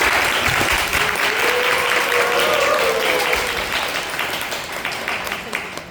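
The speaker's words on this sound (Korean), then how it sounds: "큰 박수 부탁드립니다." Audience applause at a Korean client presentation event, dense sustained clapping from a large crowd that holds steady and then slowly fades, with a voice speaking briefly over it.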